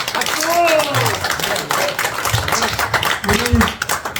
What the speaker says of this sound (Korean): 여러분들 힘있게 박수 한번 쳐주시기 바랍니다.